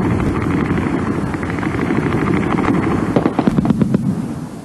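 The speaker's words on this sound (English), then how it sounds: "the city is hit from every side by practically every imaginable projectile." Wartime city bombardment in Sarajevo in 1992: a continuous heavy rumble of distant shelling, with a burst of sharp, rapid machine gun reports near the end, no voices.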